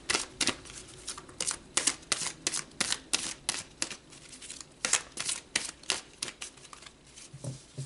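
Tarot cards being shuffled and handled by hand, with a steady run of crisp flicks and riffling snaps, close and fairly quiet.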